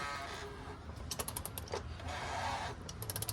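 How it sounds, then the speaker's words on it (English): A plastic fuel filter cap being tightened on a diesel truck with a 6.4 engine: quick ratcheting clicks and creaks come in short bursts over a steady background hum. "It says right on the cap to tighten to 27 Newton meters,"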